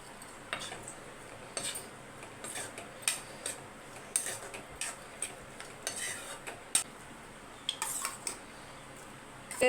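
A spoon mixes salt into sambar rice in a metal vessel, giving a string of light clinks and scrapes in an irregular rhythm, fairly quiet and close, with no talking.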